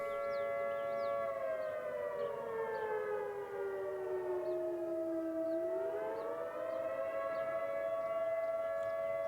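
An American tornado warning siren sounds the attack tone, a loud sustained wail that slowly falls and then rises again in a smooth sweep. It plays alone without talk.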